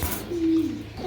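A black Spanish pouter pigeon gives a single short, low coo, close by, against faint room noise.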